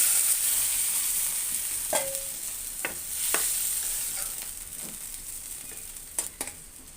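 Loitta dried fish frying and being stirred in a pan, a soft continuous sizzle with a few sharp scraping taps from the stirring spoon, fairly quiet and close, with no voices.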